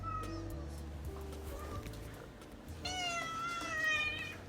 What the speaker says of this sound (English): my cat, has decided that she needs to be in this voiceover